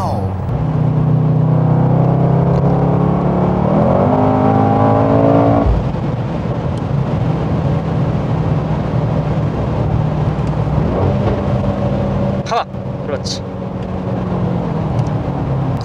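A Mercedes-AMG GT63S with 639 horsepower cruising on the road, its deep, steady engine and exhaust drone filling the cabin, with a brief rise in pitch and someone talking over it throughout.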